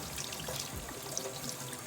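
Hot water runs steadily from a tap during a soap lather test, a continuous close splashing hiss with no voices over it.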